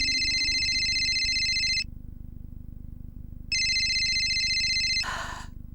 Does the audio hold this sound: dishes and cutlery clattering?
no